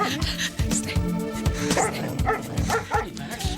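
A dog barks and yips in short repeated bursts with some whimpering, close and fairly loud, in an indoor scene from a television drama.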